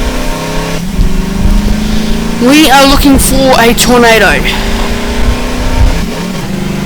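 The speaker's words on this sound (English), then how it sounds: "let's go ahead and hop in our car and let's go for a drive" A car engine in Garry's Mod revs and accelerates steadily through the drive, rising and falling in pitch, with someone talking over it partway through.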